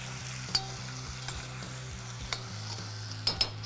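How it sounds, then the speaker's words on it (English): Seasoned tomatoes with salt and cracked pepper are stirred in a frying pan under a soft, steady sizzle, with several distinct scrapes and clacks of the spoon against the pan. "Let's give this a nice stir."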